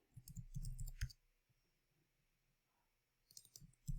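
Computer mouse clicks while entering test data into a search index, two quick bursts of sharp clicking near the start and a second cluster near the end, close and fairly quiet with a hushed room between.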